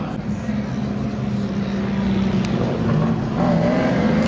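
A Firebird and a Camaro launch together in a drag race at Seekonk Speedway, a steady loud engine roar heard from trackside, with a commentator talking over it.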